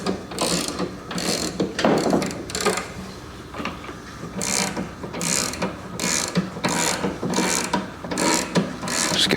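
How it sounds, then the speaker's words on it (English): Scissor lift jack being cranked up beneath a 1975 Harley Aermacchi SX175 motorcycle, raising the back wheel off the ground, giving repeated close ratcheting, grinding clicks in uneven bursts with short pauses. "let's jack it up a little bit"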